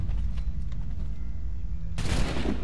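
A gunshot rings out in Assassin's Creed III, a single sharp, loud blast near the end that cuts through a low rumbling background.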